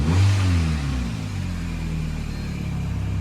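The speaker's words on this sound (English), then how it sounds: "let's give it a little rev here" A VW Jetta GLI's Fahrenheit engine, freshly swapped in, revs once, loud and close, with a deep surge that falls back to a steady idle rumble.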